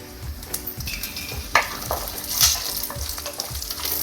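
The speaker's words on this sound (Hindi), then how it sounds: "अब डालेंगे 2 लाल मिर्चें।" Two red chillies go into hot oil while sabudana khichdi is being made, a loud continuous sizzle and crackle with rhythmic stirring scrapes and a few metal clinks.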